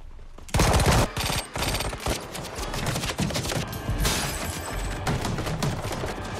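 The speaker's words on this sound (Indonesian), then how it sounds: "Orang-orang ini menembaki pintu kamar." Rapid bursts of gunfire in an action film scene as attackers shoot at a hotel-room door, loud and dense after a brief quieter start, with sharp repeated shots continuing throughout.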